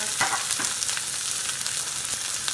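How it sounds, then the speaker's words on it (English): A potato browning in a pan with plenty of oil sizzles steadily and close up, with small crackles and pops flickering through the continuous hiss. "put too much oil in here, as you can see, but it's okay. I just want to brown this potato"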